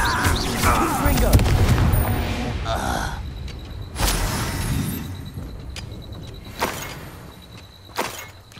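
Confringo fire-blast spells in Hogwarts Legacy, several sharp booming bursts with crackling tails at uneven intervals over a dense layer of game combat noise and voices.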